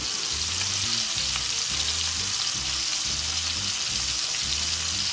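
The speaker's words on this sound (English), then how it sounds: "You can see this is starting to sear." A steak sears in a hot pan, giving a steady loud sizzle and frying crackle throughout, with a repeating low rhythmic hum running underneath and no voices.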